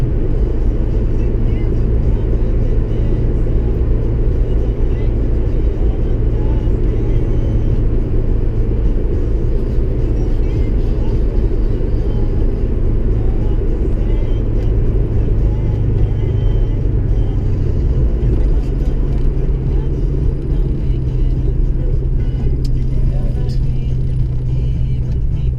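A car drives along a mountain road on the way up to Seymour, giving a steady, loud low rumble of engine and tyre noise that runs the whole time with little change.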